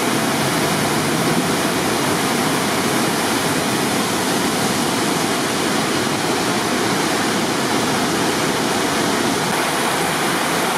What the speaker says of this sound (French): Les chutes vues du bas.